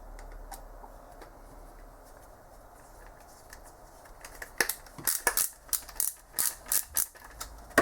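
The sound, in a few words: driving a 10mm screw into a filament buffer part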